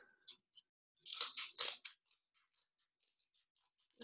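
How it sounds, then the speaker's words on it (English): Scissors snip through a small strip of cardboard at a desk, a series of quiet crunchy cuts with two louder bursts in the middle, no talking. "So I'm going to cut this little strip here. I'm going to cut it smaller."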